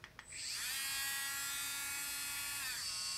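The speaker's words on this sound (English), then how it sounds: "This is a Ryobi rotary tool, cordless." A Ryobi cordless rotary tool on its highest speed, powered directly from a solar panel, spins up into a steady, bright, buzzing motor whine that holds for about two seconds, then winds down, close and alone.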